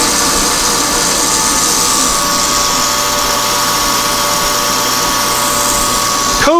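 A lathe takes a down cut on a steel shaft being roughed toward a 2-inch diameter, with a coolant mist unit running: a steady, loud whirring hum with a constant tone throughout and a brief clunk at the very end.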